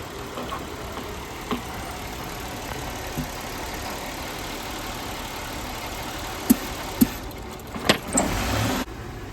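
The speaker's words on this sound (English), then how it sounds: "Just starting up the car up again" A car engine idles steadily after being restarted during a fuel-trim and vacuum-leak diagnostic, a constant low hum with a few sharp clicks and a brief louder rise near the end.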